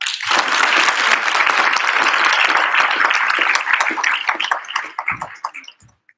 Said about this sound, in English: let's give them one round of applause before they start